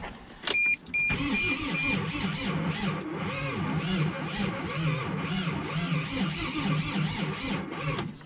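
A Mercedes Sprinter engine is cranked over on a new starter without firing: a couple of short electronic chimes, then a continuous whirring, rhythmic cranking sound at close range with no speech.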